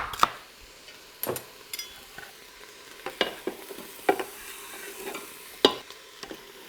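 Garlic and celery stirred in an Instant Pot while making turkey gravy, with a spoon scraping and clinking against the pot in irregular bursts over a faint sizzle. No one speaks.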